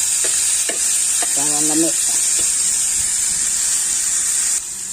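Tomatoes sautéing in a hot pan give off a steady, loud sizzle and hiss. Brief stirring scrapes break through, and a voice speaks a few words over the frying.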